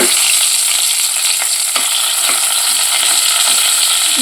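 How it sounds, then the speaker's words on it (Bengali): Fried pumpkin pieces sizzle steadily in hot oil along with chili and black cumin. The frying is loud and close, with a constant hiss and a few stirring scrapes, and no one speaks. "এদিকে কুমড়োটা ভাজা হয়ে গেছে, দিয়ে দিচ্ছি লঙ্কা আর দিয়ে দিলাম ফোড়নে কালো জিরা"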